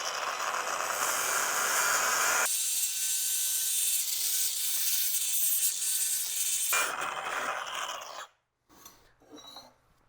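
Angle grinder fitted with an abrasive disc grinding and polishing metal in a metal shop, a loud sustained high-pitched rasping hiss that drops to a quieter, duller whir midway, then surges again before cutting off into near silence.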